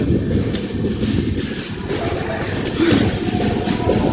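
An express passenger train passing Yelamanchili station in India rumbles along at close range, a steady low roar with faint rhythmic clatter and wind buffeting throughout.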